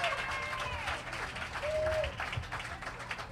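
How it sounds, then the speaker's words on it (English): A crowd applauds in welcome of Congresswoman Eleanor Holmes Norton at an anniversary boat ride event, steady clapping with some cheering and whistle-like tones throughout, moderately loud. "Let's give a great big round of applause and welcome our voice on the Hill, Congresswoman Eleanor Holmes Norton."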